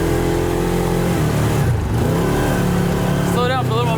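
A Hellwig Operator Ford F-350 truck engine accelerates at partial throttle, a steady loud mid-range drone that rises in pitch, heard close under speech.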